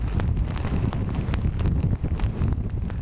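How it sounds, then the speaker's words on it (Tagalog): Strong super typhoon winds batter Cagayan in the Philippines, heard as loud, continuous gusting roar and buffeting against the microphone with no pause. "Ang mga puno halos matumba na sa lakas ng hangin."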